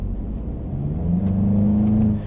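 A 2025 VW Jetta GLI accelerates, its engine note climbing smoothly in pitch and loudness from a low hum to a steady whirring pull, heard from inside the car.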